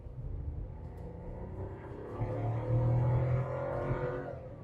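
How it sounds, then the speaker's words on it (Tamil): A new family car's engine revs up to high RPM, a close, steady droning note that rises and holds louder in the middle before easing back, with no talking over it. "ஹை ரெவ்ஸில் வந்து இன்ஜின் நோட் நல்லாவே கேட்குது."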